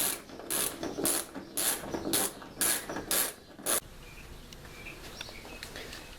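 A ratchet with a deep socket extension clicks in quick bursts, with about eight rhythmic ratcheting pulses over nearly four seconds, as it removes nuts from the rear bumper of a Toyota Corolla. Quiet room tone and a few faint clinks follow.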